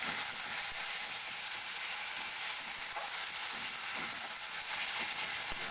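A spice mix poured over browned onions fries in a pan for dumur (fig) curry, giving a steady, loud, close sizzling hiss that runs unbroken throughout.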